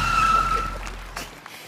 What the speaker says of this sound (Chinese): 刹车啊！